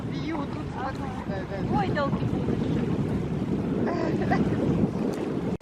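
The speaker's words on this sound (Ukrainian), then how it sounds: "Щось холодно, дивіться, вітер." Wind gusts roaring against the microphone, loud and continuous, with people talking intermittently over it.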